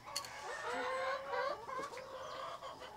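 Rhode Island Red and Dominant CZ F1 chickens cluck and chatter at feeding time on a farm in Cebu, producing a busy stream of close, moderate clucks with no talk.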